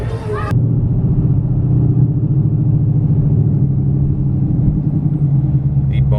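Steady low engine rumble from inside a 700 hp 2018 Ford Mustang GT crawling through heavy traffic on the Kosciuszko Bridge, a constant drone throughout after a brief faint higher noise at the start.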